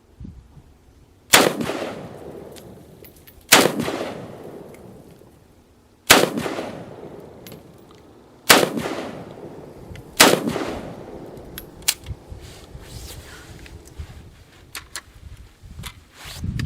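Five sharp rifle shots from a C93 Sporter firing .223 Perfecta ammunition at an outdoor range, each a loud crack with a ringing decay, spaced a couple of seconds apart, followed by faint clatter and handling noises.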